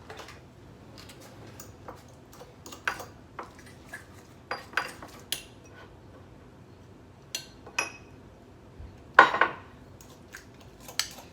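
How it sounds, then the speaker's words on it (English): A utensil stirs lasagna sauce in a pot in a home kitchen, giving sparse scrapes, light clinks and taps spread over a quiet background, with one louder knock near the end. "Let me give this a little stir."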